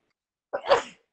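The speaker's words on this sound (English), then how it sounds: "Bless you. You made appointments without us even knowing." A single sharp sneeze bursts out after a moment of silence, close and fairly loud, with a quick breathy onset and a louder voiced release.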